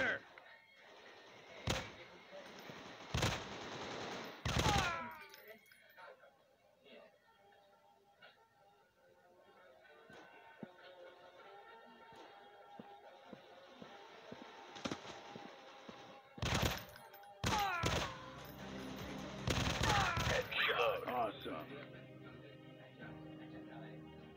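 Machine gun fire in the shooting video game Real Commando 2020, several sharp bursts of rapid shots separated by quieter stretches of game sound, with a voice speaking briefly.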